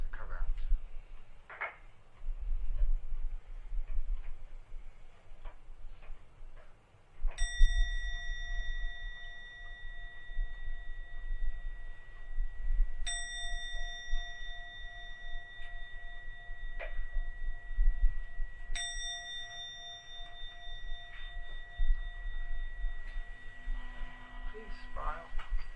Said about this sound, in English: I will now ring the gong 3 times to end the meditation.